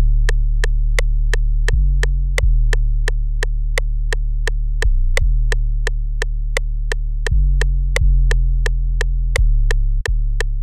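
Deep, sustained 808 bass from a trap beat booms and glides between long low notes, under a rapid, steady ticking hi-hat pattern, loud and without any voices.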